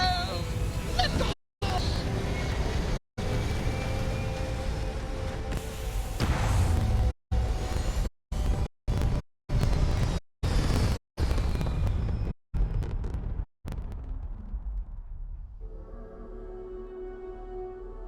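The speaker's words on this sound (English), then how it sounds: "And we have liftoff!" A spaceship lifting off in Starfield gives a loud, sustained rumbling roar broken by several abrupt silent cuts, then fades toward a quieter hum near the end.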